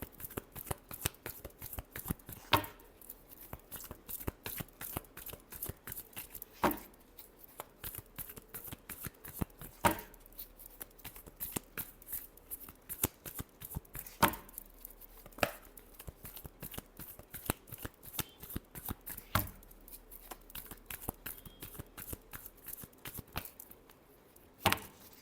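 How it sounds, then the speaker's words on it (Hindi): Tarot cards being shuffled close up, a long run of quick crisp riffling clicks repeating in fast bursts with short gaps, quiet and alone with no talking. "Last shuffle."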